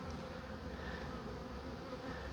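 Honeybees drone steadily and continuously at close range during a hive inspection, with a dense, unbroken buzz throughout.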